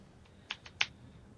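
A computer keyboard with sticking W and A keys is tapped during a Space Engineers game session: three or four crisp, close key clicks in quick, uneven succession against a quiet background.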